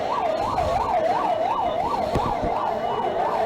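An ambulance siren wails during a mock air-raid drill with police and disaster-response teams, a steady cycling rise-and-fall tone repeating about every half second, loud and continuous over a low traffic rumble.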